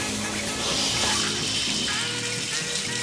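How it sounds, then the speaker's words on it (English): Shower water running, a steady hissing spray with splashing and a faint low hum underneath, continuous and fairly close, with no talking. "I'll go jump in the shower and clean up a little bit."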